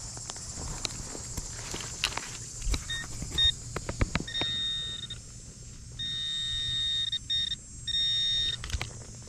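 A metal detector sweeps a playground tot lot in a dry season, giving several steady electronic tones that switch on and off in sustained bursts, with scattered footsteps and handling clicks nearby and no talk.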